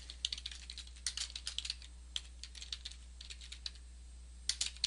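Typing on a computer keyboard, entering text into a WordPress theme text box: quick irregular bursts of crisp close key clicks with short pauses, quiet and alone over a low steady hum.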